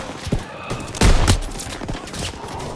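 Gunfire in the Call of Duty WW2 campaign, a loud burst of shots at close range followed by scattered fainter cracks and battlefield noise.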